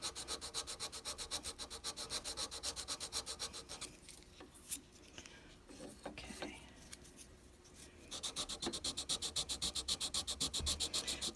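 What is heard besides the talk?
sanding a solder blob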